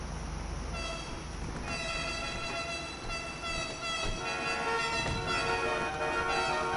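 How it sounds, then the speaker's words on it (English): Several car horns honk together at a car meet in a video game, sustained overlapping tones that thicken midway and continue loudly to the end. "the only time these guys honk, if you just notice, they all started honking"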